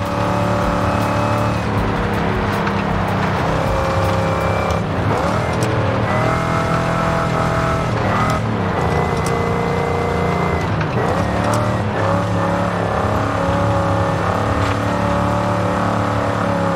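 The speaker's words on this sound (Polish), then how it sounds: "Co tak gwiżdżę z tego auta?" A car in the Forza Horizon 5 racing game drones loudly and continuously, its engine note rising and falling with a thin, high supercharger-like whistle running over the revs.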